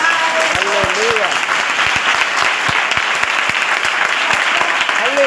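Church congregation clapping steadily in worship, a dense continuous wave of applause with a few sharp individual claps standing out and a faint voice underneath.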